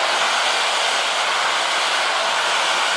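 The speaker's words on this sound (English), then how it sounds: "Ignore my ghetto blow dryer." A cheap handheld blow dryer running continuously, a loud, steady airy whoosh with an even motor hum, close up and alone with no talking.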